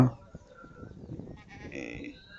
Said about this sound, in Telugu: ఇది ఒక మేక